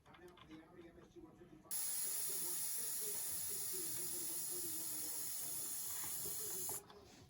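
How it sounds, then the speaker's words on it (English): Air hisses out of the tire of an Ariel Rider XClass 52V electric scooter, a loud steady close-up hiss lasting about five seconds that starts and stops sharply, with faint voice-like murmur underneath. "So now I'm gonna let the air out the tire"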